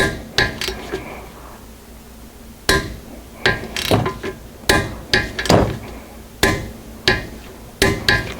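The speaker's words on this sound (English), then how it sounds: "So now we're going to torque the second bolt." A torque wrench tightening the second front brake bolt on a Honda Accord, giving a series of sharp metallic ratchet clicks and knocks in irregular bursts, close and fairly loud.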